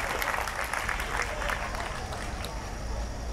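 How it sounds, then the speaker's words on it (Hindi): An audience at a devotional lecture in Thakkar Bappa Colony claps together, a dense steady burst of applause that fills the clip with a murmur of voices underneath. "वाह जोरदार ताली इन सबको।"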